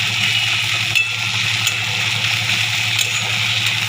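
Onions frying in a pan, a continuous close hiss and bubbling sizzle with a few faint clinks of stirring, loud and steady throughout with no talk.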